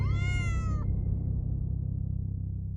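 A single drawn-out cat meow, close and clear, sliding slightly in pitch and ending abruptly, followed by steady low background hum with no talking.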